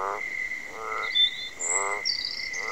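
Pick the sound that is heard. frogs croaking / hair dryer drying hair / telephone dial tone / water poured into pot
frogs croaking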